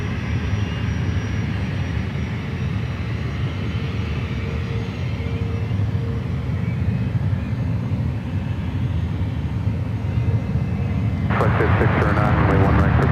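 A United airliner jet taking off from an SFO runway gives a steady, distant roar that holds throughout, with a brief burst of radio chatter near the end.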